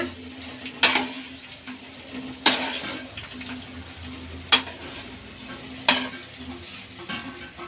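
Steamed bafauri dumpling pieces get stirred in a pan, a low simmering bubble punctuated by four sharp scraping clacks of a spoon against the pan at roughly regular intervals, close up and without talk.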